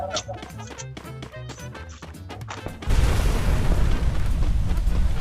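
A loud, sustained in-game explosion from a car blowing up in the battle royale game Free Fire, erupting abruptly and roaring densely for a few seconds after a stretch of game sounds.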